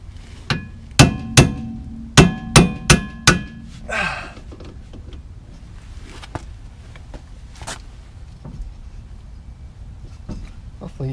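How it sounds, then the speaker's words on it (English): Impact screwdriver struck hard against the rear disc brake of a 2006 Honda Civic: about seven sharp, ringing metallic blows in quick succession, then a brief rattle and a few fainter knocks, loud and close. "And then I'm going to try an impact screwdriver."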